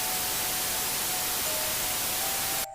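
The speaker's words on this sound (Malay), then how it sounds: "dia cuba tukar ke radio lain tapi satu pun tak masuk yang ada cuma bunyi white noise" Radio white noise static hisses in a flat, unbroken wash at steady loudness, cutting off abruptly at the very end with no voices.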